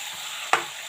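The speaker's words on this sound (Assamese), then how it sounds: "এনেকৈ ভাজিয়ে থাকিম অলপ টাইম" Pieces of meat coated in spices frying in a pan, a steady sizzle with one sharp scrape of a stirring spoon near the end, close and fairly loud with no talk.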